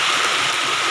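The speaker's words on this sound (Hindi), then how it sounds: "देख रहे हैं कि बारिश कितनी हो रही है" Heavy rain falling in the mountains, a steady dense hiss of downpour close by and loud, unbroken throughout with no voices.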